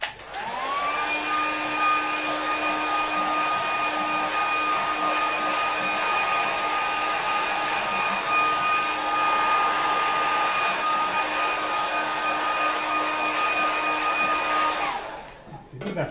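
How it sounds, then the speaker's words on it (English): A hair dryer runs steadily at close range, drying a watercolour painting on paper, with a constant whirring hum and airy rush, then switches off near the end. "then I'm just going to quickly use the air dryer"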